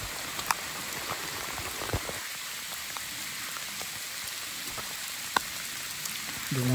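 Steady rain patters and hisses on the surroundings during a trek toward a waterfall, with a few sharper drops and taps standing out, and no voices.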